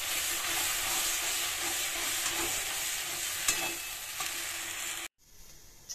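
Mukhi kochu paste is stirred in a pan over medium heat, making a continuous dense sizzle and scraping close by that cuts off abruptly near the end, followed by quieter clatter.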